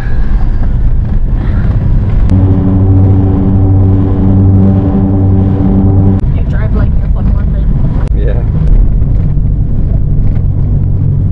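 Engine of a Suzuki Carry mini dump truck with a 2-inch lift, running while driving: a steady motor drone with a sustained tonal hum partway through, under wind noise and people talking inside the cab.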